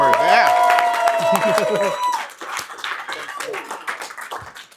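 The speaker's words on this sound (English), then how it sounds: "let's give him another round of applause" Scattered clapping and brief cheering from an audience at a live financial training boot camp, mixed with a raised voice at the start, then thinning into loose patter that fades out.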